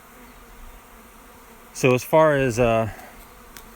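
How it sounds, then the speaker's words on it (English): A swarm of honey bees buzzes steadily around a new hive in a low, continuous drone, with someone talking briefly over the middle of it. "So there are bees everywhere."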